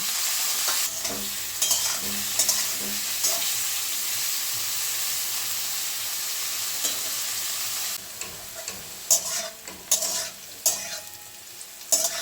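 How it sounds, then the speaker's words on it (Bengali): Bitter gourd sizzling and crackling in hot mustard oil, a constant loud fry with intermittent scraping and stirring knocks in the pan. "প্রথমে উচ্ছেটা আমি লাল করে ভেজে নেব"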